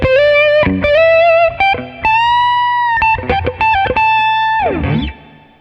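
Electric guitar through a Roland Blues Cube Artist amp on high-gain distortion plays a lead line of sustained, saturated notes with quick runs, ending in a wobbling bend before fading out.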